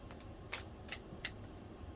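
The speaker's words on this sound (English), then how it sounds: "let's do a couple big shuffles" A deck of cards is shuffled in three quick riffling bursts, crisp and close, over a quiet room background.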